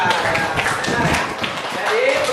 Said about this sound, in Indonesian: Tepuk tangan buat Kalista.